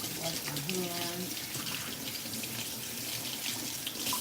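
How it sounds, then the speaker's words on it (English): Water runs from a kitchen tap into a sink during handwashing, a close steady splashing rush with short tonal squeaks near the start. "Wash my hands."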